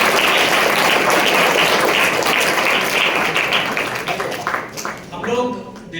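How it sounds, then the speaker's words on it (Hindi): Students at a Christmas celebration in a school for visually handicapped children give dense, sustained applause that fills the room, tapering off near the end while some voices come through. "आप एक बार अपने लिए फिर से ताली बजा सकते हैं."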